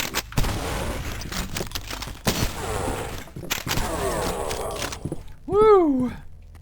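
Shotgun blasts and submachine gun bursts in the retro shooter game Cultic, a rapid series of loud sharp cracks and booms with echoing tails, followed by a short warbling effect at the end.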